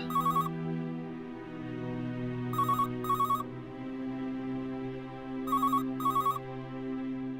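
Telephone ringing in short electronic double bursts, three rings spaced a few seconds apart, clear over a quiet background of soft sustained music.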